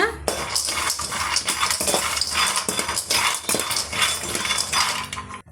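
Almonds dry-roasting in a pan while being stirred, a continuous close scraping and rattling of nuts against metal with rhythmic shuffling pulses throughout, loud and busy.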